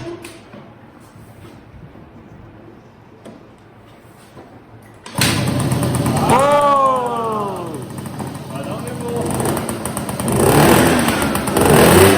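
After a quiet stretch, a scooter engine fitted with a 70cc Booster kit starts after several kicks and runs loud and close, revving, while people talk over it.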